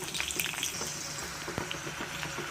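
Green chillies fry in oil for kolu rasam, giving a quiet, steady sizzle with light crackles and occasional stirring taps.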